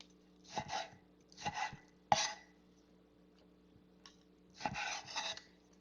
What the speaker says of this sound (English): So I'm just going to cut these into wedges.